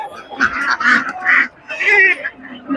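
Ducks quacking and honking at a wholesale poultry market in Ghazipur, Delhi, in a cluster of loud, nasal calls, several bursts in quick succession with a short pause midway, close by.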